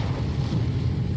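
Strong, gusting wind roars during heavy rain on a drive, a dense low rumble buffeting steadily and loudly throughout with no talking.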